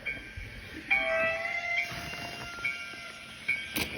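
A train rumbles and clanks at a distance, with a faint metallic squeal and a brief whistle-like tone near the end.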